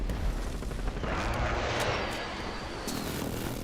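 A missile explosion in a military video game rumbles loud and sustained, a heavy low boom rolling on for several seconds with crackling debris on top and no talk.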